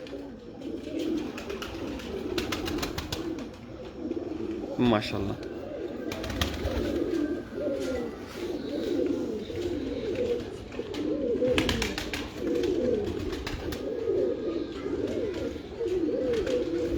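Steady Kamgar pigeon cooing close by, soft throaty coos repeating throughout, with someone talking over them and a brief exclamation partway through.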